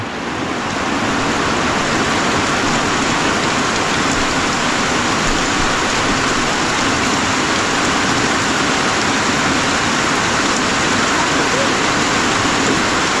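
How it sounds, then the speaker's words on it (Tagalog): First April rain pouring down after a long dry spell, a dense steady hiss of falling water, loud and constant with no pauses. "Unang ulan ng April."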